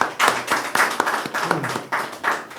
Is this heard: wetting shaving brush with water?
no